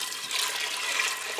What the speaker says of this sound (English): and then you take 2 cups of water